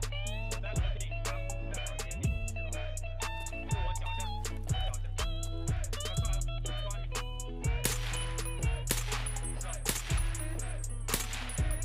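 Gunfire from an exchange in Escape from Tarkov rings out as regular, evenly spaced single shots. Each report is sharp, and a steady mechanical hum runs underneath, with denser overlapping shots toward the end.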